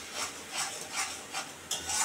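Spices sizzling and being stirred in a pan while cooking for a catla fish kalia, with home-made cumin powder added; several rhythmic scraping strokes of a spoon against the pan, moderately near, with no talking.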